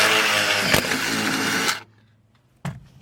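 A power drill with a step bit boring holes for Camaro seat bolts, a loud, close whining grind that cuts off after about two seconds, followed by a brief second burst.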